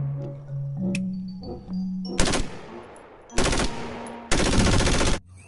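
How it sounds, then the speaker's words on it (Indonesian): A toy pistol fires three loud, rapid rattling bursts of shots, each lasting about a second, after a quieter stretch of clicks and tones. "Ini mainan tembakan pistol."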